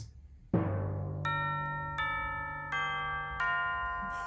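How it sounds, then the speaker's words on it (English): A deep struck tone rings out, then four bright metallic chime strikes follow at a steady, even pace, each ringing and overlapping the last. "Gotta love chimes and glockenspiel and timpani."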